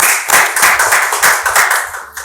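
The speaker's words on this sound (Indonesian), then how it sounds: "Aplaus dong." A small crowd claps at an event, a burst of close, brisk applause with rapid overlapping hand claps that holds steady for about two seconds before thinning out.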